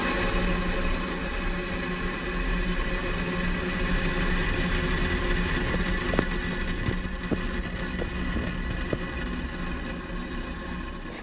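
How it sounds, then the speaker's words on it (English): A SpaceX Falcon 9 rocket lifting off makes a continuous, even, broad rumbling roar that holds steady throughout without voices over it. "and liftoff of Falcon 9."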